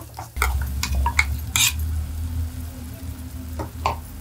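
A spoon scrapes and clatters in a pan as coconut paste is stirred into fried onions and curry leaves, with a low sizzle underneath and sharp metallic strokes. No voices are heard.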